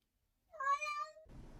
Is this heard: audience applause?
no